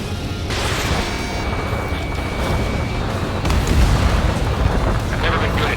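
Missile launched and exploding in Ace Combat 7, a loud roaring whoosh under constant jet engine drone, swelling into a heavy rumbling blast midway, with radio chatter over the top.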